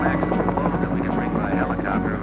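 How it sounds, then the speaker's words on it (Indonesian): A helicopter flies over mountainous Papua near a mining operation, giving a loud, steady, close rotor drone that fills the whole stretch with no break. "Beban paling berat yang dapat diangkut helikopter ialah 800 kg."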